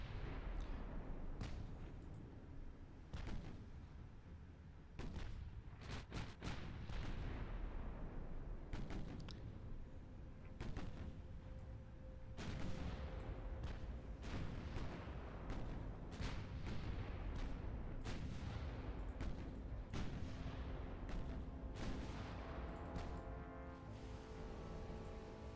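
Naval guns booming in Ultimate Admiral Dreadnoughts, repeated heavy blasts at irregular intervals over a constant rumble of ship and sea noise.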